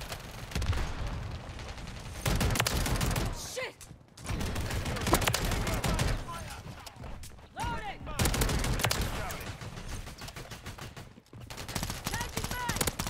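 Rapid gunfire bursts in Modern Warfare 3 multiplayer with the Riveter shotgun, several loud volleys separated by brief pauses, with dense game action throughout.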